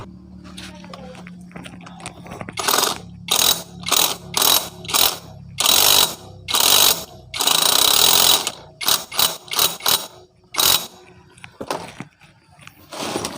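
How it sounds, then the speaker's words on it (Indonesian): Impact wrench tightening the wheel nut on a Supra X 125 motorcycle: loud, close bursts of rattling hammering, a dozen or so short and long pulses with brief gaps, over a faint background hum. "Sekarang kita kencangkan teman-teman menggunakan impact."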